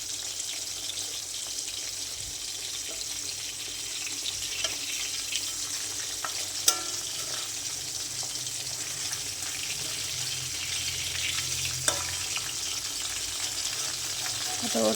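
Large pabda fish, cut in half, fry in a pan with a constant close hiss and crackle that stays steady throughout, with a few faint scrapes and clinks.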